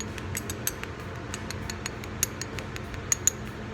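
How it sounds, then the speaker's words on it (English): A spoon taps and cracks through the crisp caramelized sugar crust on a crème brûlée, producing a run of small, sharp, brittle clicks and crackles up close, a few louder snaps near the end. "your creme brulee will have a nice crispy sugar top like that, and you can hear it with the spoon."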